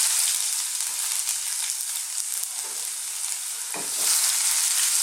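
Fresh garlic and ginger dropped into a hot pan of chickpeas and mushrooms, a loud steady sizzle and crackle with brief stirring scrapes, close up, swelling again near the end.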